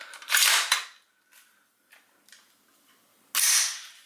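Crisp mechanical snaps of the trigger on a new Daniel Defense DDM4 V7 Pro rifle in gun metal gray being dry-fired indoors, two sharp loud clicks near the start and another at the end, with faint handling clicks between.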